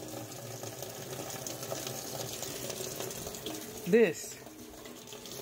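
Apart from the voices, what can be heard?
water running into a washing machine for laundry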